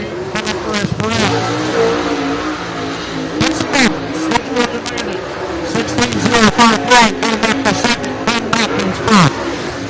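A race car laps Cherokee Speedway in Gaffney, South Carolina, its engine droning and rising beneath a steady stream of loud announcer commentary throughout.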